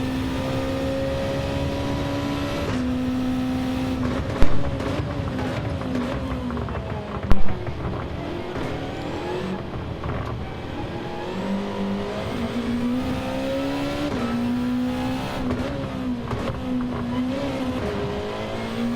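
Race car in a racing video game at Fuji International Speedway, its engine held at high revs in a loud continuous whine that climbs and drops through gear changes, with a couple of sharp knocks and brief tyre squeal.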